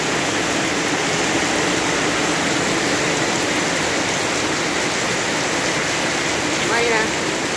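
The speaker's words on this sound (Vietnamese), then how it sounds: "Ô, mưa lớn nữa các bạn ơi," Heavy afternoon rain pours down in the Vietnamese countryside, a dense, loud, unbroken hiss of downpour on surfaces that holds steady throughout with no voices heard.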